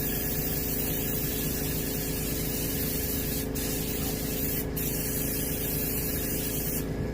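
Aerosol can spraying a light coat of silver pearl paint onto a striper fish mount: a continuous close hiss with a few brief pauses between passes, no talking.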